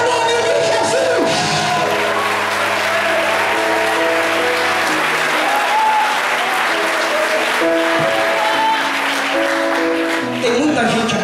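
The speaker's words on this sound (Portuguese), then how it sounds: "Aplaude o nome de Jesus." Loud, continuous applause and cheering from a big church worship crowd, with whoops and shouts rising over steady clapping the whole time.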